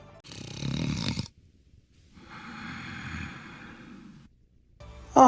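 Two long, raspy snores from a Smash Ultimate character, the first louder and breathier, the second a drawn-out rumbling exhale, with a short noisy burst at the end.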